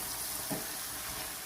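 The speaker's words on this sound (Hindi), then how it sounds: "इसे भूनना है।" Chicken karahi masala with onion, tomato, coriander and ground mint frying in a pan, a steady soft sizzle with a brief louder burst of stirring midway, no voices.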